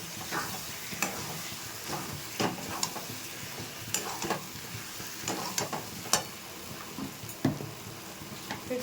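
Potatoes tipped into a pan of fried spice paste for aloo dum, with steady oil sizzle and repeated short stirring scrapes and clatters over roughly nine seconds, close and moderate.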